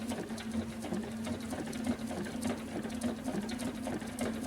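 A sewing machine runs steadily through slow appliqué stitching, its rapid rhythmic needle clatter holding a constant hum close up for the whole stretch, with no talking.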